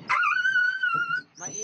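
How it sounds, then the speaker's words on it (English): Dog whimpering in pain with its leg caught in a trap, two close high-pitched wailing whines, the first drawn out and the second shorter, with no talking. "It's never nice hearing a dog in pain"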